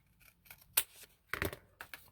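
Scissors snipping paper cut from a page for an altered book craft: a few quiet, separate snips in a near, otherwise still room.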